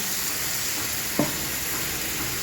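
Spice paste with turmeric and garam masala frying in a hot pan for a ridge gourd and potato curry: a steady soft sizzle with one brief stir or spatter midway.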